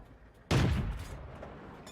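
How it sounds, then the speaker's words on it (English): An M5 Stuart tier 4 light tank in a tank video game fires a high-explosive round: a single sharp, heavy boom followed by a rumbling decay that lasts over a second. "Here I'm using high explosive."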